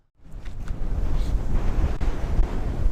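A steady roar of wind rushes across the microphone, loud and low, starting abruptly and holding constant with faint higher whooshes layered in.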